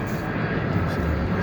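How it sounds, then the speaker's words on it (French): Airplanes pass nearby, a dense, steady roar of jet engine noise filling the short stretch at fairly close range, with no clear change in pitch. "il n'y a que des avions qui passent à côté"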